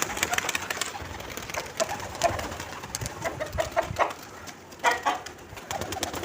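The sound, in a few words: pigeons cooing and fluttering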